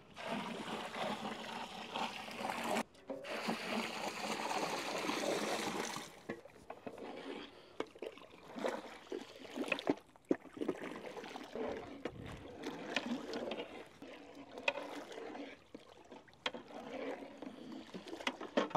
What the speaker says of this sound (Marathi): बॉईल केलेलं मटकीचं पाणी टाकून घेऊ।